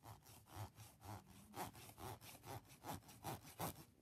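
A metal slinky is scratched with quick rhythmic rasping strokes, about three per second, soft and close with no voices.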